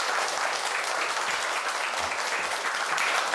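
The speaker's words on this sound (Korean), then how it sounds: "박수 부탁드립니다." Steady, dense applause from a lecture audience at a university talk on local autonomy, a continuous even wash of clapping with no voices over it.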